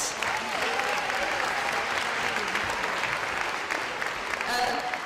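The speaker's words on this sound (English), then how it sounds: "Can we get a round of applause for the beautiful baskets the Project Hope members assembled?" An audience at a Project Hope Strut For The Cure charity event applauds in a steady, loud, full round of clapping that lasts throughout, with a few voices and cheers mixed in.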